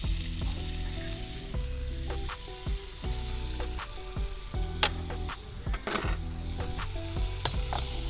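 Onions frying in peanut oil, a dense, continuous close sizzle with metallic scraping and clinks from stirring throughout, no speech.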